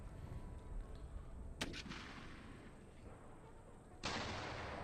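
Musket volleys and artillery in the game Empire: Total War: distant rumbling battle noise with a sharp crack partway through and a louder booming burst near the end, fairly faint overall.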